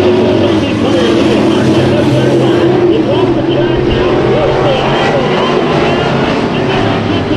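Race cars roaring steadily through a Bakersfield Speedway heat race, a dense continuous engine drone with a commentator talking over it throughout.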